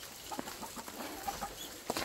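Chickens cluck softly while being herded into their coop, a few short, scattered clucks and murmurs at close range over a quiet background.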